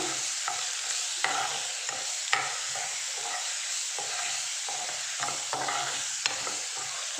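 Spice paste stir-fried in a pan, a soft, steady sizzle broken by repeated spatula scrapes and light taps at an uneven rhythm, close and moderately quiet.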